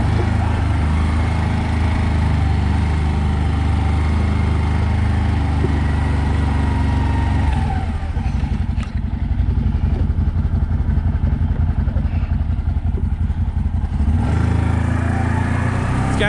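CFMoto Cforce 800XC ATV, a 2021 model with a Polaris-style shifter, pulling away in reverse; its steady engine drone runs loud and close throughout, with a brief dip in the middle before it picks back up.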